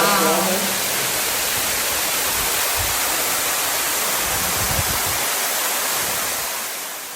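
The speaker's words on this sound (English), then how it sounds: "The entrance to the cenote, they have a waterfall." Waterfall at the entrance of a cenote near Playa del Carmen, a steady loud broadband rush of falling water that fills the scene without pause, fading slightly at the end.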